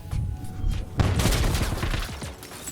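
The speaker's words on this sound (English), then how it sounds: "I hear the gunfire, but I don't see where it's coming from." Rapid gunfire erupts in a Star Citizen firefight, a burst of sharp shots and rattling automatic fire after a quieter rumbling lead-in, loud and fairly close, continuing for a couple of seconds before trailing off.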